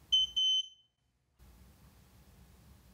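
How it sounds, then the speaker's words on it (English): Two short, high-pitched electronic beeps in quick succession from an alarm panel programming an RFID key tag, then silence followed by a faint low hum. "The panel should beep twice."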